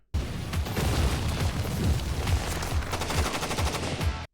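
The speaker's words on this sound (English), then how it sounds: "that is grenades flying through the air" Grenade explosions and gunfire from an action movie: loud booms and rapid volleys of shots, dense and continuous, heavy low thumps under sharp bursts of automatic fire.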